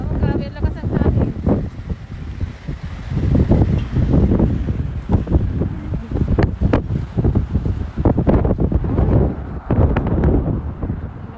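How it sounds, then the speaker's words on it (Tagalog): Strong wind buffets the microphone outdoors in repeated loud, choppy gusts that rise and fall throughout, with a person speaking beneath the roar. "Oh, grabe, ang lakas ang hangin."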